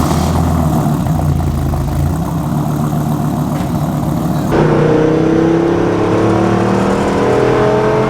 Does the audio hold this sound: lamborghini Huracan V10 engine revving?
yes